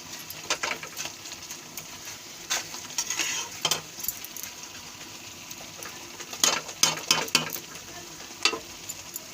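A vegetarian tadka bubbles in a pan while a spoon stirs it, giving soft simmering hiss broken by repeated scraping and clinking strokes.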